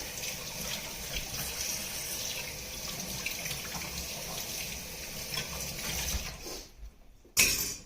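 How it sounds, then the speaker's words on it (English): Tap water runs steadily over blender blades being rinsed in a kitchen sink, a continuous splashing stream for about six seconds that drops away abruptly, followed by a short clatter at the end. "I'm going to rinse this off right away so it's much easier to clean later"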